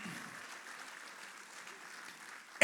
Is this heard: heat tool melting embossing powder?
no